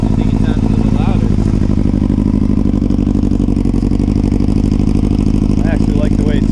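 A 2005 Yamaha YZF600R Thundercat fitted with a Delkevic exhaust idles loudly and close, a steady rapid throbbing putter with small blips of revving, while people talk over it.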